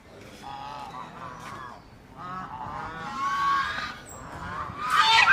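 Geese at a temple pond in Jaleswar, Odisha, honking in scattered bursts that grow louder and more crowded toward the end, several birds calling at once nearby.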